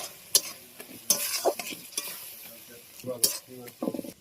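Tomato stirred into spice paste of ginger, turmeric, chilli and salt frying in a pan for a crab and banana-flower dish, with close scraping strokes and sharp sizzling bursts that come and go.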